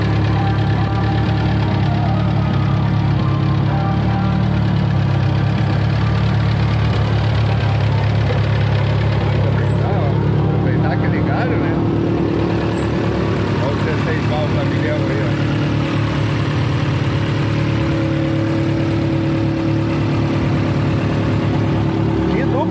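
Turbocharged Chevrolet Chevette engine running loud and close, a dense steady rumble with rough knocking texture and a slight swell in the middle, nearly unbroken throughout.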